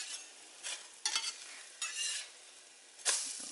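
Gluten-free stovetop bread frying in a pan, a soft sizzle broken by four short bursts of scraping and shuffling as the pieces are turned with a spatula, close and without speech.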